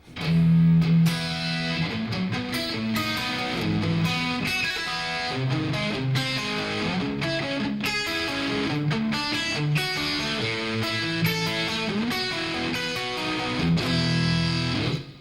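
A distorted electric guitar plays a steady, dense song with rhythmic strummed chords and bright attacks throughout, loud and continuous, with no voices.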